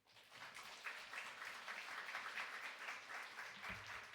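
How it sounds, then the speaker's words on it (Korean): Applause from a university chapel service audience welcoming a vice president to the stage, a soft, steady wash of many hands clapping throughout, heard from a distance. "박수하겠습니다."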